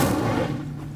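The Incendio fire spell is cast in Hogwarts Legacy, a single booming burst of fiery whoosh that hits loud at once and then fades and thins out over a second.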